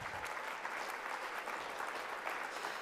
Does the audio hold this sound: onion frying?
no